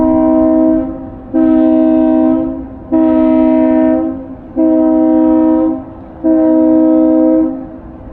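A vessel's horn sounding on the Mississippi River, four long loud blasts with short gaps between them, a deep steady horn tone carrying over the water, with no one speaking.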